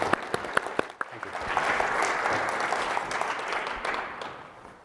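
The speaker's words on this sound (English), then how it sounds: "Please come on up. Round of applause." A conference audience breaks into applause for the speakers, starting with a few distinct separate claps that quickly swell into full, dense clapping before tapering off toward the end.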